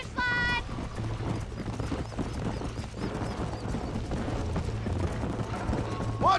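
A horse gallops in a Red Dead Redemption race, with steady rhythmic hoofbeats close by throughout, mixed with game sounds and a short tonal effect at the start and end. Voices speak over the hooves.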